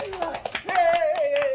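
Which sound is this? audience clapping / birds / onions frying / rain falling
audience clapping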